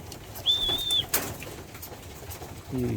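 Young pigeons in a loft give a soft call near the start, followed by a sharp flutter or clap and a brief low coo near the end, with quiet gaps in between.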